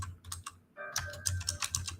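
Quick clicks of typing on a computer keyboard, close and fairly quiet, in short irregular bursts with a brief pause before a denser run of keystrokes.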